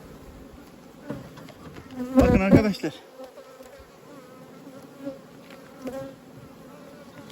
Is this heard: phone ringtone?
no